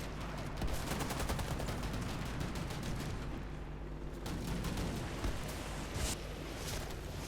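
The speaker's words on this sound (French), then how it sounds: "ça fait longtemps que je pas tiré au bazooka" A bazooka fires during a match of the shooter game Warface, its booming blasts heard among dense, continuous gunfire and explosions, with no talking.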